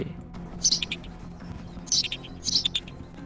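A voice imitates a tailorbird's call: three bursts of high, sharp chirps, evenly spaced with short pauses between them.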